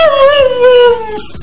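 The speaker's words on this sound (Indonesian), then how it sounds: "seekor anjing peliharaan jenis Siberian Husky yang mengikuti suara pemiliknya untuk mengucapkan I love you mom" A Siberian Husky gives a long, close, falling howl that trails off into a short whimpering yip at the end, with no talk.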